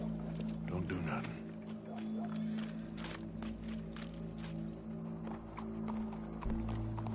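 Horse hooves clop in an irregular rhythm over a low droning background in Red Dead Redemption 2, with voices talking faintly alongside.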